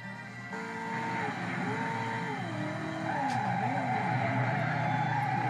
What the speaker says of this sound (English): Wrecked the car.